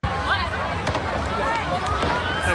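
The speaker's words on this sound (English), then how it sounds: "This is just a video of people fleeing the beach." A crowd of people flees Bondi Beach during a mass shooting, a loud, dense rush of running feet and panicked babble with scattered shouts throughout.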